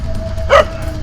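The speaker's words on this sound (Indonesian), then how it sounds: "anjing tak ragu dan langsung melompat sambil terus menggonggong" Hunting dogs chasing a monitor lizard near a rocky stream give one short, sharp bark rising out of a steady background murmur.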